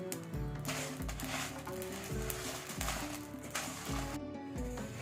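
Whole dried red chilies being lightly roasted in a pan give a steady broadband sizzle with a low repeating scrape, like stirring, under a continuous musical background; no one speaks.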